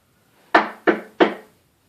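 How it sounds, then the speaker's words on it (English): Three firm knocks on a wooden door in a stage performance of the porter scene, evenly spaced and close, each with a short resonant decay, alone in a quiet room. "Knock, knock, knock."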